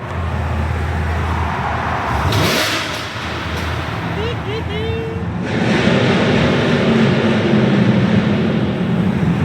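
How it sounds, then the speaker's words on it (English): A Chevrolet engine revs hard in neutral inside a road tunnel, loud surging roars echoing off the walls, with people talking and shouting over it. "We started a rev battle."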